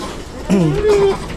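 Boer goats on a farm call out close by, with a short wavering bleat rising over a low background murmur of the pen.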